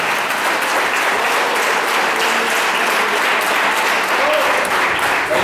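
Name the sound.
congregation applauding in church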